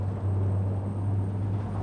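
The FSD 195 fast patrol boat, a 20-metre craft, has its engine accelerating as a steady, heavy low drone with a strong constant hum, heard continuously without speech.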